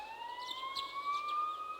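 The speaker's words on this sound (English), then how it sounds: "You can hear sirens in the distance." Police sirens wail faintly in the distance in Persona 4 Golden, a thin steady rising tone with no talking over it.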